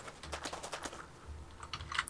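Rapid computer keyboard typing in bursts, fairly close and moderately loud, with short pauses between flurries of key clicks.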